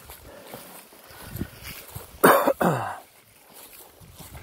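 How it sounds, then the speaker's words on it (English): A man coughs twice in quick succession, loud and close, during outdoor work installing a spring water supply pipe, with faint background movement before and after. "No, I don't have the coronavirus because I'm coughing."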